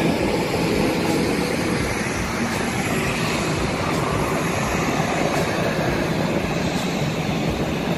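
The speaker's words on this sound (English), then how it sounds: "Guys, we are now on the plane. We are ready to take off." A steady, loud broadband roar fills the cabin of an aeroplane whose engines run before takeoff, continuous and unbroken, with no talk heard.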